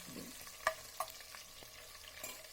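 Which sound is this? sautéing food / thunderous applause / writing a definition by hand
sautéing food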